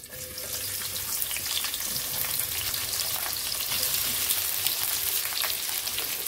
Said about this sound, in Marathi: आता त्यामध्ये ना हे उभे चिरून घेतलेले कांदे आहेत ना ते घालूया।